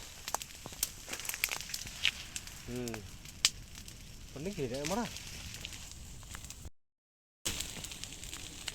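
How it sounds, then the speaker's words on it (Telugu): Dry grass burning as smoke for night-time honey harvesting from a bee comb outdoors, giving steady crackling and popping close by, with brief voices and whistled tones over it. "ఎండిపోయిన గడ్డి అవ్వడం వల్ల మంట అనేది ఎక్కువ వచ్చేసింది"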